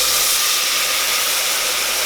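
Veggie broth hitting a hot pan for corn chowder gives a steady, dense sizzle and hiss that stays loud and unbroken for the whole two seconds.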